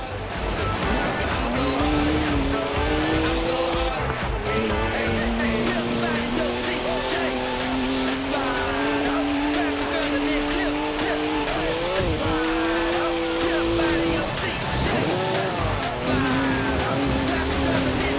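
A BMW driven in the racing video game Forza Horizon 4, its engine tone climbing and falling steadily through the gears with bursts of tyre squeal, continuous and loud over busy game audio.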